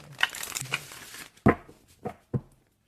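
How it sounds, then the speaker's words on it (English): Tarot cards being shuffled by hand for a general Aquarius reading: a run of papery riffling and crinkling rustles in the first second, then three separate sharp card snaps, close and fairly loud, with no talking. "I'm going to shuffle them again on camera for you"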